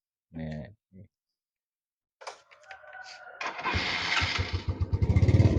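A used Yamaha Mio scooter's engine cranks with a starter whir, catches and settles into a close, steady idle after a few clicks and brief voice sounds.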